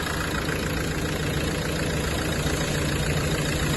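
A Renault Megane air conditioner motor hums continuously and steadily without change, a close, even mechanical drone.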